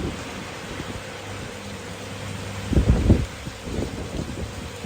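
Wind roars steadily with rain noise, and a few low rumbling gusts buffet the microphone.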